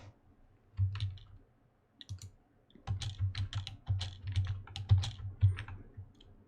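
Typing on a computer keyboard while writing C++ code: bursts of quiet, close key clicks in uneven clusters with short pauses between them, and no voices.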